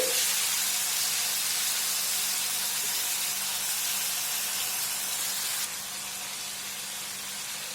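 Chicken frying with garlic in a pan, a steady loud sizzling hiss that continues throughout and drops slightly in level near the end.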